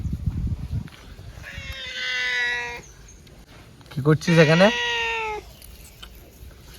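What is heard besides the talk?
cat meowing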